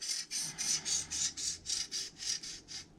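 Knife blade drawn slowly across a DMT diamond sharpener using a Magna Guide, about a dozen even rasping strokes in a steady rhythm, close and fairly quiet.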